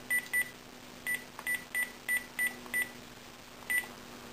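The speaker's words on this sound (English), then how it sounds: "you should probably phone Santa right now. Phoning Santa." Telephone keypad dialing tones, about ten short electronic beeps in an uneven rhythm, heard clearly and alone with no talking.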